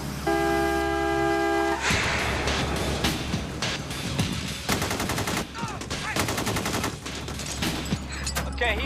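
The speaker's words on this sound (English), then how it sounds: "Okay, he's firing. He just shot through his own window." Rapid automatic gunfire rings out during the North Hollywood shootout, loud repeated bursts and long strings of shots echoing along a street, with a car horn and shouting mixed in.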